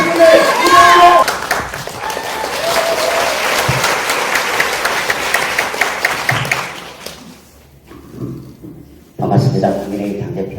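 An audience at a film screening applauds a party leader, with loud, sustained clapping and some voices over it that fades out and drops to near silence, then a person begins speaking.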